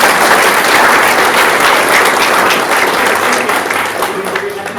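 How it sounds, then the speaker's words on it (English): A conference audience applauds at the end of a talk on enterprise OpenStack deployment, loud dense clapping filling the room and slowly thinning toward the end. "Big round of applause."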